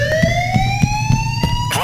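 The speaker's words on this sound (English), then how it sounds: "That's the alarm." A wailing electronic alarm sounds in the heist game Payday The Heist, a loud rising tone that rings continuously while rhythmic thuds and gunfire-like clatter pulse underneath, ending in a sharp burst.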